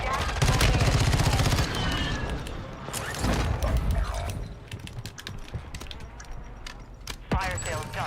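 Incoming gunfire in a video game, with rapid automatic bursts loud at the start, then scattered shots and clatter over a busy game soundscape, with game voices heard.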